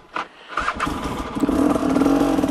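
An enduro motorcycle cranks over and starts after sitting unused through winter, catching after a couple of brief bursts and settling into a steady, close, rising idle with no talk.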